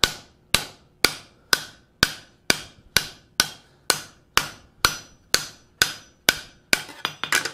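A hammer forges down the folded metal edge of a fold-formed bowl. About a dozen sharp, ringing blows land close by at an even pace, then a quicker flurry of strikes follows near the end.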